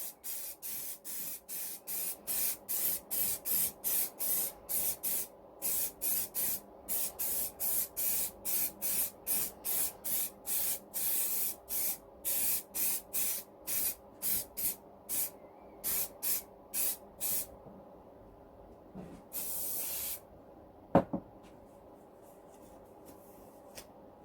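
A spray paint can lays a light coat on a Honda CB400T wheel in a long run of quick, evenly spaced hissing bursts, then one longer spray, a brief clunk and quiet.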